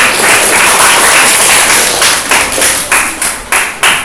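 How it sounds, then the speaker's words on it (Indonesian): Applause from a classroom audience after a student group finishes presenting its observation results, with dense clapping that thins into a few scattered, separate claps toward the end. "Kasih tepuk tangan."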